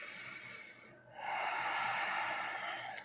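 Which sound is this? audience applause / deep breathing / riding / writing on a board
deep breathing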